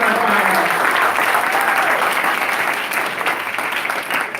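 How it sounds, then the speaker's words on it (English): Sustained applause from a gala audience at an awards ceremony, dense steady clapping that fills the room for several seconds and tapers slightly toward the end. "Let's give a big round of applause for all three of our"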